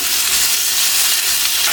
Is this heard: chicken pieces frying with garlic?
yes